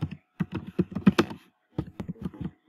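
Quick bursts of key presses on a computer keyboard, close and crisp, with two clusters of clicks separated by a short pause.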